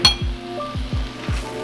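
Heavy cream and butter simmering in a pan for a scallop pasta sauce, giving a steady soft sizzle with a few low, thick bubbling plops rising and bursting at irregular intervals, close up and without talk.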